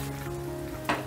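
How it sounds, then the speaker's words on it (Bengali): Paneer being stirred into spices in a frying pan for a soybean laddu curry, giving a steady sizzle with a brief louder scrape of mixing near the end. "এবারে পনিরটাও মশলার সাথে ভালো করে মিশিয়ে দিচ্ছি"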